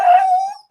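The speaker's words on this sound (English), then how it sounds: "That other noise you hear is my dog." One short, close dog howl holds a steady whining pitch, fades out, and ends in a small whimper.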